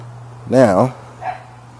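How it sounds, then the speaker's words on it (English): One short, tonal dog bark or yelp sounds clearly against a steady low hum, followed by a fainter second yip, during an outdoor rib barbecue. "Shut up, dog."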